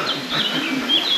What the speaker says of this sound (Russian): Слышите, как поют птички?